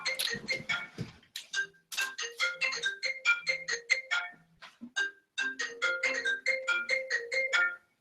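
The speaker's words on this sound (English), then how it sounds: "My husband's phone's ringing." A phone ringtone plays a rapid series of bright, tinkling electronic notes in repeating bursts, fairly close and clear, with no talking.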